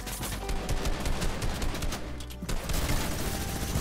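Rapid, sustained gunfire bursts from the Fortnite video game, loud and continuous rattling volleys with a short dip in the middle before the shooting resumes.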